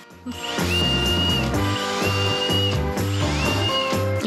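A power drill drives a screw into wood during construction of a garden shed with a chicken coop. The motor whirs loudly in short pulses with rising pitch sweeps, heard up close with no talking.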